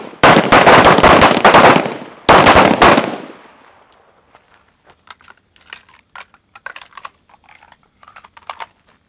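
Pistol shots from a night shooting drill at a training range, two loud sharp reports close together followed by a long decaying echo and faint scattered clicks and movement.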